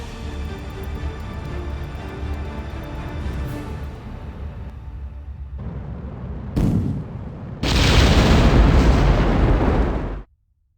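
A solid rocket booster fires in Kerbal Space Program, a roaring broadband burst that swells suddenly and holds loud and steady for a few seconds before cutting off abruptly, preceded by a lower rumbling engine drone.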